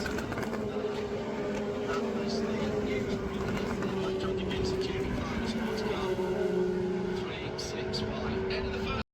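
GTP prototypes followed by LMP2 endurance race cars passing at Watkins Glen during the Six Hours of the Glen, a continuous droning engine roar with a steady pitched whine, moderately distant, with faint crowd voices underneath.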